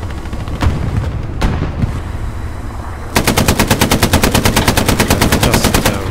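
Rapid machine gun fire in the World War II shooter Hell Let Loose, with an M4 Sherman tank nearby. A few scattered shots come first, then a loud, steady burst of evenly spaced rounds that runs for several seconds.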